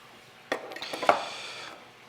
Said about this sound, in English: I'll do some steak knives over here.